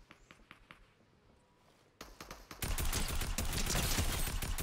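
Tactical assault rifle fire in a shooter video game, starting as quiet clicks and footsteps, then rising into a loud, sustained burst of rapid gunfire.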